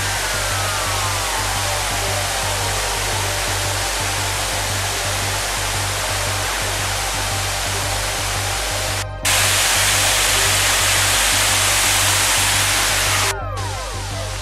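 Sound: waterfall on hiking trail near Pioraco

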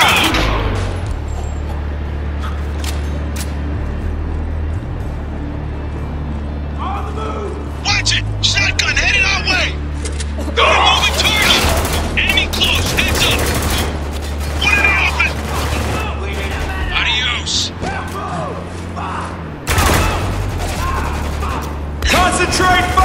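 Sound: gunfire in the video game Spec Ops: The Line

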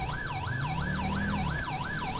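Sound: ambulance siren in video game GTA 5

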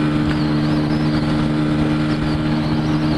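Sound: Hero Ignitor i3S motorcycle accelerating at full throttle, overtaking truck

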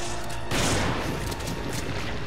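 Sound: explosion in video game Resident Evil 5

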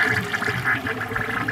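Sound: 1946 Kohler Trylon toilet flushing a rag

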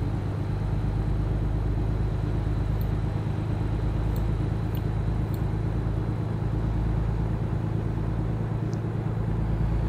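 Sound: truck accelerating in American Truck Simulator video game

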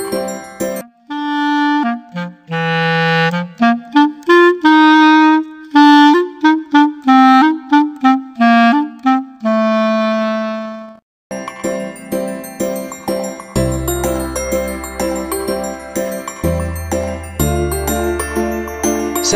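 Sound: clarinet playing

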